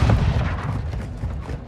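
Grenade blast in Call of Duty: Modern Warfare II team deathmatch at Santa Seña Border Crossing, a deep booming rumble that carries loud through the short stretch, mixed with distant gunfire.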